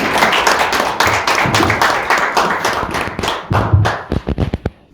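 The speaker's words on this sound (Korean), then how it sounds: "박수로 맞이해 주시죠." An audience at a breakfast lecture claps to welcome the speaker to the stage, a dense round of applause that thins out near the end into a few last scattered, distinct claps.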